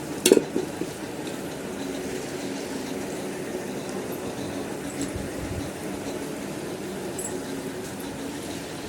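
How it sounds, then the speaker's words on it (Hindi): Ingredients sizzle and fry steadily in a pan while a cough-remedy panchouni is made, a continuous close crackle with a brief stir or clatter near the start. "ये रख के और इसको बढ़िया से फ्राई कर रहे हैं पहले"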